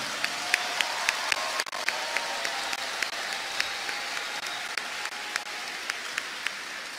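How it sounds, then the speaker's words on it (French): Audience at a graduation ceremony applauding the graduates, a soft, steady patter of many hands heard from some distance, with a few sharper individual claps standing out. "applaudissons-les"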